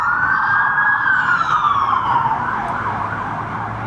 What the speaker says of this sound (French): les sirènes passent à tout moment